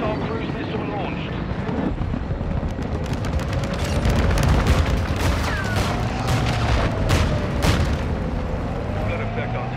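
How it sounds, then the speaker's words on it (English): Bombing-run explosions and battlefield din in Call of Duty Modern Warfare II multiplayer, dense rumbling booms and crackling blasts rolling continuously for ten seconds, with aircraft drone and radio-style voices mixed in. "Bomber 6-1, bombing run is inbound."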